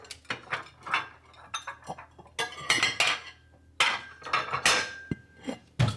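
Silverware and dishes clink and rattle in quick irregular bursts close by, with sharp metallic chinks and clatters as utensils are handled and set down.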